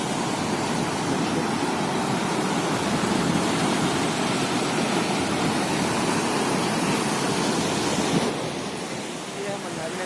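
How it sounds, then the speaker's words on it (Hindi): Broad steady roar of the flooded Maniyari river rushing high during monsoon rain near the Tala temple in Chhattisgarh, a continuous close wash of water that softens slightly near the end. "ये है मंदारी नदी, काफ़ी जल स्तर इसका बढ़ा हुआ है।"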